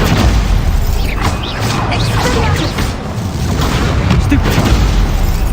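A Stupefy spell blast fires in Hogwarts Legacy, a booming magical impact with crashing bursts over game background sound, loud and close.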